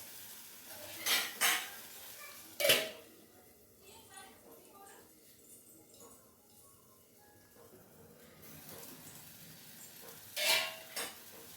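A metal lid is set back on a cooking pot of mushroom curry with a few sharp clanks, followed by faint sizzling and later more lid or utensil knocks, all near and clear.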